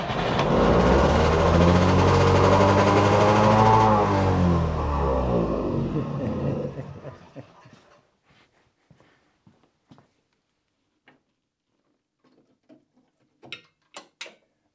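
A Trabant P60 two-stroke engine starts on choke and runs loud, with a harmonic idle that wavers in pitch for about seven seconds before cutting out, leaving scattered faint clicks and taps.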